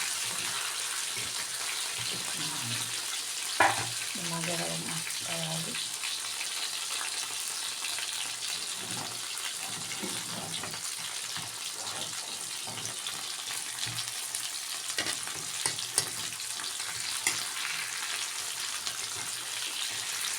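Fish fries in a hot pan with a steady, loud hiss of oil throughout, with occasional faint pops and a few scattered clicks.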